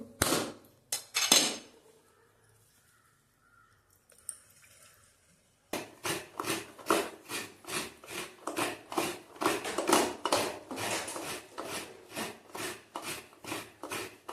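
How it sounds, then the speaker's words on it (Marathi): Hard blows strike a coconut to break it open in a Konkan home kitchen, a few sharp knocks at first, then a long run of rapid, rhythmic close scraping or grating strokes. "आपण नारळ आता फोडतलो आणि मग तो सुकवतलो"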